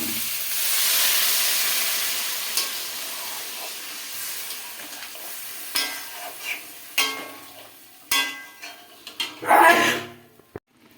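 Water is poured into a hot pan of fried fish curry masala and sets off a loud, steady sizzling hiss that slowly fades, broken by sharp spits and pops near the end.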